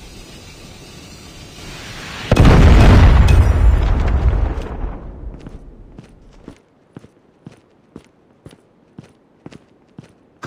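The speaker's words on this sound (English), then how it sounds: "Predator missile inbound." A predator missile strike in the Call of Duty Mobile video game hits with a loud, deep, sustained explosion rumble that fades over a few seconds, followed by a run of sharp, evenly spaced clicks or footsteps.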